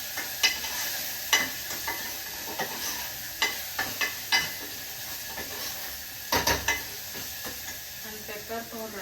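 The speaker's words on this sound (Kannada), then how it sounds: "ಬೆಳ್ಳುಳ್ಳಿ ಹಾಕೊಂಡು ಸ್ವಲ್ಪ ಫ್ರೈ ಆದಮೇಲೆ ಸ್ವಲ್ಪ ಪೆಪ್ಪರ್ ಪೌಡ್ರ್ ಹಾಕ್ಕೊಳ್ಳಿ" Garlic frying in a pan with pepper powder, a soft steady sizzle broken by sharp spoon taps and scrapes against the pan at irregular intervals.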